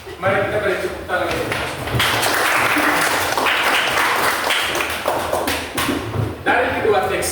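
Audience applause fills a room at a community literacy presentation, a sustained wash of clapping that runs loud and steady for several seconds with some voices mixed in.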